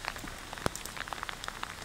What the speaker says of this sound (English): it's decided it wants to rain. It's coming down